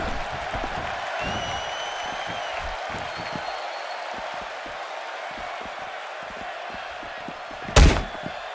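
A large arena crowd in the WWE 2K16 wrestling video game roars in a steady, dense wash of cheering, with a single sharp thud near the end.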